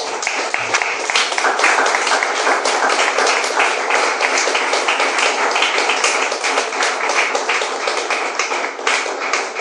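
A church congregation bursts into loud, dense applause, many hands clapping vigorously and continuously, close and unbroken throughout.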